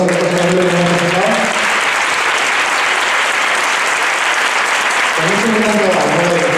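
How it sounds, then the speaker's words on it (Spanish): A choir concert audience at a conservatory bursts into loud, dense applause that fills the hall, with a voice speaking over the clapping at the start and again near the end. "Y un fuerte aplauso también para mi música,"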